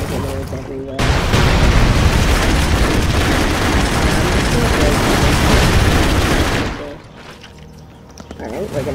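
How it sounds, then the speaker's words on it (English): Grenade blasts from the side-scrolling game Broforce fill the scene with a dense, loud run of explosive bursts and rumbling chaos lasting several seconds, then cut away to quieter game sound as a player talks over the action. "Throw some grenades everywhere."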